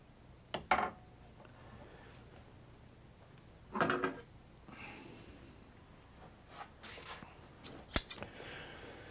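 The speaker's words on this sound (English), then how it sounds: "So the next step is to trim the feathers" Scissors trim the feathers on an atlatl dart in a few separate snips spread far apart, close and crisp against a quiet room, with faint handling rustle between cuts.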